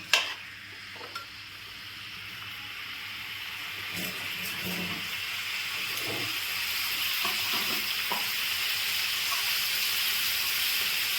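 A steady hiss of mutton sizzling with fried onions in a pan builds gradually and continues throughout, with a few clinks and stirring sounds near the start and middle.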